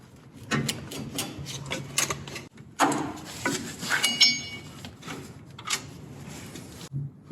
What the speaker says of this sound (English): I'm just using a piece of wood here to pry it loose.